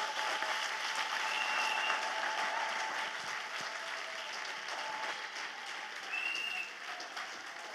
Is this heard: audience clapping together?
yes